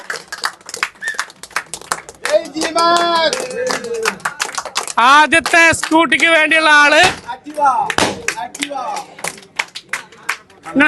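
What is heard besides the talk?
audience clapping at a lucky draw event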